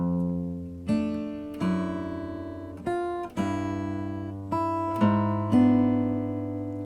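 Guitar notes plucked one at a time, slowly and deliberately, roughly every second, working through a measure of a song; each note rings clearly over a held bass, close and without talk.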